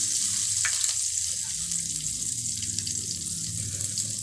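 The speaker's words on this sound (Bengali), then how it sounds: "এরপর এতে আমরা একটু এই যে কাঁচা লঙ্কাগুলো আছে অল্প একটু ফোড়ন দিয়ে নেব" Green chillies sizzle as they temper in hot refined oil in a wok, a loud, continuous close-up crackle and hiss that runs unbroken from start to finish.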